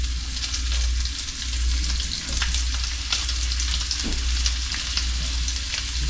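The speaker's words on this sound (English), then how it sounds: "And that's the sizzle you want to hear." Steady crackling sizzle of triggerfish fillets frying in hot oil, continuous and close, with occasional sharper pops and spits.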